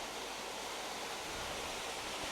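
Water pours steadily from a bluff through an old mill turbine, a continuous broad rushing wash heard alone at a moderate, even level.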